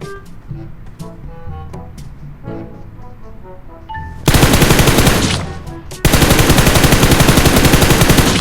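PUBG Mobile gameplay shifts from quiet ambient sounds with a soft voice to two loud bursts of continuous automatic gunfire, the first lasting about a second and a half, the second running through to the end.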